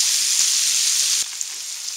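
Onions fry in a pan with a loud, steady sizzle that drops to a quieter crackle partway through.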